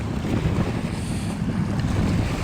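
Steady wind buffets a microphone outdoors on the water while a fishing rig is tied, a dense low rumble holding loud and constant throughout with no pauses.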